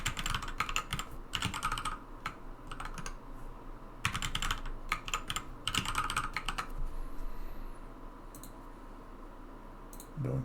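Fingers type an admin password on a computer keyboard in close, rapid bursts of clicking keystrokes separated by short pauses, with a low hum underneath and no talking.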